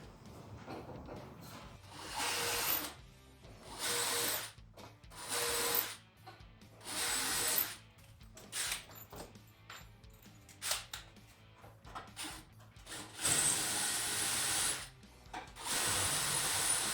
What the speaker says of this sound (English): so I'll just drill out the spot welds.